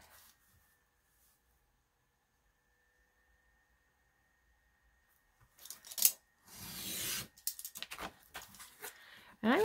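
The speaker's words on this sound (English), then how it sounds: "So I'm just going to cut this bendy part off." Scissors cut a bendy textured part off a piece of material, a few close, crisp snips and crinkles after a long quiet stretch with faint hum.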